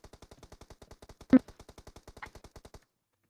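Rapid automatic gunfire in PUBG Mobile on the Livik map: a long, steady burst of evenly spaced shots about three seconds long, with one louder crack partway through, then it stops abruptly; there is no talking.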